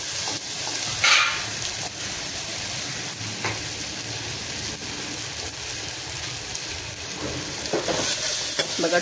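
Tomatoes dropped into hot spiced oil for masala khichdi fry with a steady, loud sizzle and occasional stirring scrapes, broad crackling hiss running throughout with a brief louder burst near the start.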